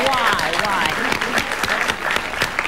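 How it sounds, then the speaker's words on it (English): Studio audience clapping during a talk show taping, steady dense applause running throughout, with voices talking over it and occasional louder hand claps standing out. "Claps for him"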